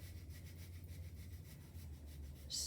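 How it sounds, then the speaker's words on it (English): A zester scrapes fresh ginger in a quick, rhythmic series of close, soft rasping strokes. "scrape some of the ginger off"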